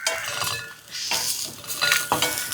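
Shallots and garlic stirred in a pan with a utensil, scraping and clinking against the metal in repeated strokes, close and moderately loud, with a faint sizzle underneath.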